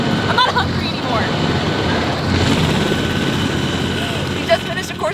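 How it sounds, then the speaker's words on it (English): A helicopter runs close by at a training range, a constant loud rotor and engine rumble filling the background without pause, with people talking over it. "there's a freaking helicopter behind us"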